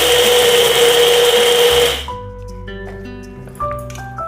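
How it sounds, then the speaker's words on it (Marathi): A kitchen mixer grinder runs loud and steady, crushing mustard, fennel and fenugreek seeds for sweet raw mango pickle, then switches off after about two seconds, leaving faint clinks and tones. "मी आता हे मिक्सरला थोडे मोठे मोठे बारीक करून घेणार आहे मिक्सरला बारीक करून घेत आहे"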